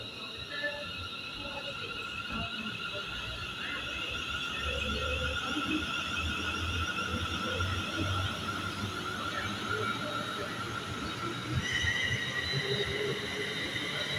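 A London Northwestern Railway train passes through Rugby station, a steady continuous rumble with high sustained tonal whine and some wheel squeal, fairly loud and unbroken throughout, no talking.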